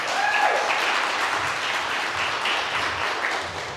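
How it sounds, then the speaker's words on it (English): Applause at a Kent Chamber of Commerce DEI luncheon, a room of attendees clapping in a full, even burst that holds steady and then begins to taper. "So give him a round of applause again for him."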